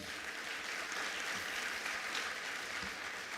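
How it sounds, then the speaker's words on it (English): A formal ministerial announcement event, where an audience gives the Director General a round of applause, a soft, even patter of clapping heard from a distance, steady for several seconds. "Let's give our Director General another round of applause."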